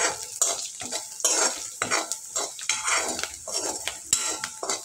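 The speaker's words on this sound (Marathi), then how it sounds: "आणि पुन्हा एकदा मिक्स करायचं आहे मीठ घातल्यानंतर" Chopped onion with salt fries in a pan while a spoon or spatula scrapes and stirs it in quick, repeated strokes over a steady close sizzle.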